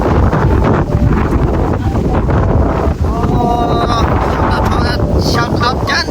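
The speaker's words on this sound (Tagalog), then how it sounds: "Lakas ng hangin guys" Strong autumn wind buffets the microphone with a constant loud roar, while a person talks over it.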